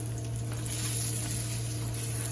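Steady, close sizzling of a Beyond Burger patty frying in a hot pan, a continuous crackling hiss with a low hum underneath.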